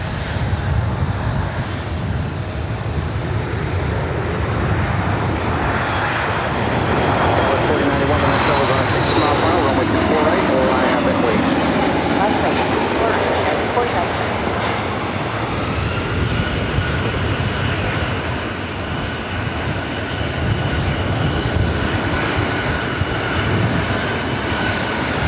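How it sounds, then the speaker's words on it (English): A United Boeing 737 arriving at LAX roars past close by, its engine noise swelling to a loud peak midway and sweeping down in pitch as it passes, then holding a strong steady whine to the end. "We do have the United 737 up next for arrival."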